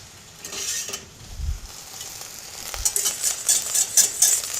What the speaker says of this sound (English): the sauce is almost reduced to about half